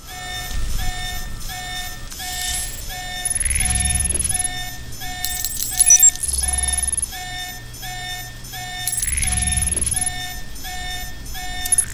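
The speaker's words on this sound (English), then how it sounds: "You need to shut off the alarm." In the Alpha Protocol video game, an electronic alarm sounds as a steady repeating pattern of high beeping tones, continuous and fairly loud, with occasional low thuds and bursts of game noise underneath.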